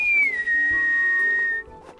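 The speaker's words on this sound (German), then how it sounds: "Und man kann zur Begrüßung pfeifen." A cartoon character whistles a greeting: one clear, loud whistled note that slides down at the start, then holds steady for over a second before cutting off.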